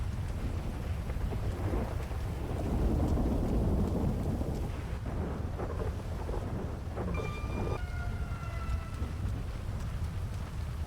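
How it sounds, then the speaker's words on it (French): A thunderstorm rolls on in GTA RP, heavy steady rain pouring close with deep, sustained thunder rumbling throughout, and no speech. "Eh les gars, il y a un sacré orage"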